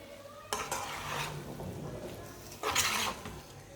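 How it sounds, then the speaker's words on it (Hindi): A spoon stirs khoya into carrot halwa in a pan, a soft steady scraping and sizzling through the whole stretch, with a louder scrape burst near the end and no voices. "मैं इसमें खोया डाल लूँगी, मिक्स कर लेंगे"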